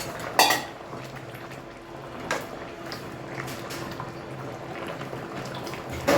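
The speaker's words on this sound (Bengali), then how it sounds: "এখন মাছটা দিয়ে দিব। ভালো করে ঝোল ফুটে গেছে।" Hilsa fish goes into a pot of boiling bottle gourd curry: a few metallic clanks of a utensil against the pot over a soft, continuous bubbling.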